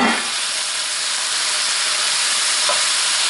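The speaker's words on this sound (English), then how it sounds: "There's nothing like the smell of fresh vegetables cooking in oil." Beef, broccoli and vegetables stir-fry in hot oil with a steady, close, broadband sizzle and hiss that holds evenly throughout, with no talking.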